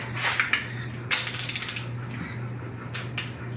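Metallic clicks from a torque wrench tightening bolts during final assembly of a Quad Cab Silverado, close and fairly loud, coming in short bursts over a steady low hum with no talking.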